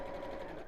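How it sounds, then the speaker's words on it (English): An Elna 570A sewing machine stitching, giving a steady close mechanical hum with a sustained whir, running evenly throughout the short moment with no voices. "This sewing machine, Joanne, is an Elna 570A."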